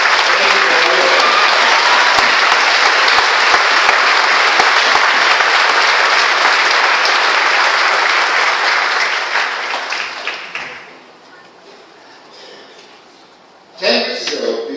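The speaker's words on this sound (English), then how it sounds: "join me in a round of applause for the military veterans" Loud, sustained applause from a graduation audience honoring military veterans at Fort Sill, filling about ten seconds before fading to quiet, then a brief burst of clapping returns near the end.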